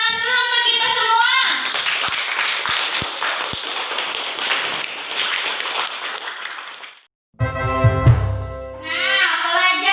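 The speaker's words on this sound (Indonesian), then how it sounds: "Tepuk tangan dulu untuk kita semua" A classroom of children claps during a teaching lesson, a burst of quick scattered hand claps with a few sharp louder taps, set between stretches of bright children's voices and speech before and after.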